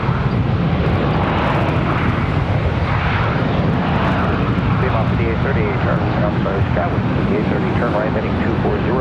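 An American Airlines airliner lands on runway 18 right at Charlotte Douglas International Airport, its engine roar a steady, loud broadband rumble throughout, with tower radio chatter layered over it.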